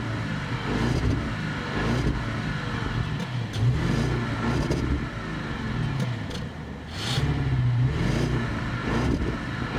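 Steady exhaust and engine drone from a 2011 Bentley Mulsanne on the move, a smooth low rumble with gentle swells in revs, continuous for several seconds with no talk.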